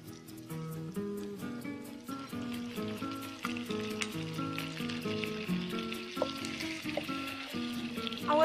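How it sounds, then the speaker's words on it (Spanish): Seasoned, pre-cut meat pieces frying together in a pan, a soft continuous sizzle under background music with sustained melodic notes. "Ahora tenemos que freír todo eso junto"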